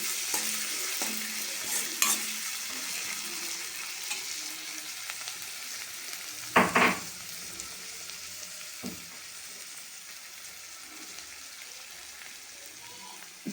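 Garlic paste and green chillies fry in a pan for a potato fry, a faint steady sizzle with a few sharp scrapes of a spoon stirring and mixing, close and quiet.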